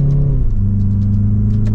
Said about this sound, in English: You can hear that engine a little bit